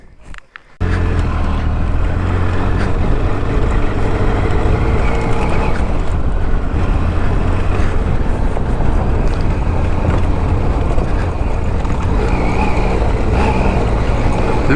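A Benelli TRK502X motorcycle rides off-road over loose gravel after a short quiet start, and a loud, constant engine rumble is buried under heavy wind roar for the rest of the ride.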